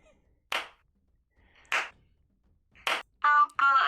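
A slow clap sound effect fires on a live coding stream: single sharp claps spaced about a second apart, then two denser bursts close together at the end, loud against near silence.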